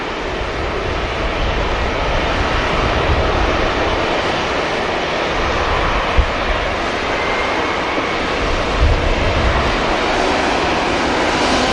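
A Saudi airliner departs Manchester Airport, its engines giving a loud, sustained roar that stays broad and steady, with a couple of brief bumps in the rumble.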